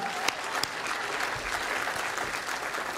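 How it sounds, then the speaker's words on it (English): Audience applause at a couture fashion show, a dense, even wash of many hands clapping at close range, steady and unbroken throughout. "I'd give it a round of applause, absolutely."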